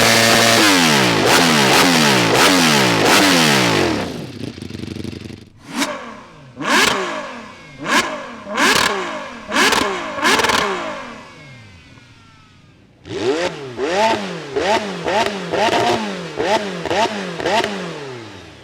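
Ferrari, McLaren and Ducati engines rev hard one after another on a street, a long sustained scream first, then a string of sharp throttle blips, then a rapid burst of repeated revs, loud and close.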